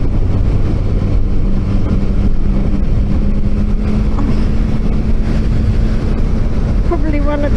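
A 2024 Yamaha XSR 900 GP motorcycle is ridden along the road, its engine a steady drone under heavy wind rush at the microphone throughout, with a faint tonal whine near the end.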